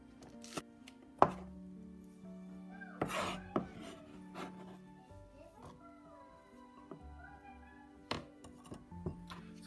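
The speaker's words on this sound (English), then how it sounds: "We just cut it small, as small as this." Knife chopping washed green onion into small pieces on a board: a few sharp isolated knocks among softer scraping and cutting sounds at close range, with quiet background hum and no talking.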